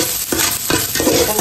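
A handful of garlic fries in a pan while being stirred until brown, giving a steady sizzle with soft scraping strokes of a utensil against the pan in an irregular rhythm.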